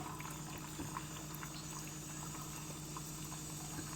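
Tamarind water pours into a pot of gently boiling cowpea curry, with soft steady bubbling and faint pouring throughout, quiet and close.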